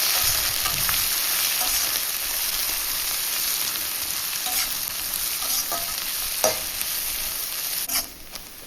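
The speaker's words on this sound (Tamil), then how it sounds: "2 வெங்காயத்தை நீளமாக கட் பண்ணதை சேர்த்து நல்லா வதக்கி எடுத்துக்கலாம்." Sliced onions sautéing in an iron pan with fennel seeds, a steady loud sizzle with scraping stirs and occasional spatula knocks throughout, no voices.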